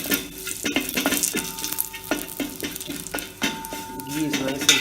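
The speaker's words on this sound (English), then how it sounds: "So transferring bay leaves to roast." Bay leaves roast in hot ghee with a soft, continuous sizzle, broken by repeated clinks and scrapes of a utensil stirring in the pan.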